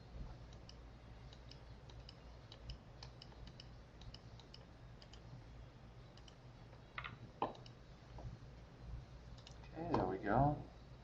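Sharp mouse clicks from drawing a schematic in Eagle PCB software, a scattered series of faint near taps over a steady background hum, with a louder burst near the end.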